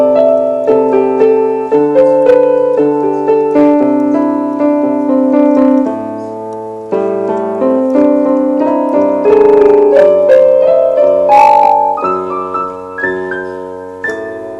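Piano playing the second part of the solo from a song, steady sustained chords with a melodic line moving upward, loud and close with no talking.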